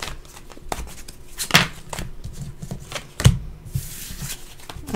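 Tarot cards shuffled by hand nearby, crisp riffling bursts and soft slaps in an irregular rhythm, with quiet pauses between the louder shuffles.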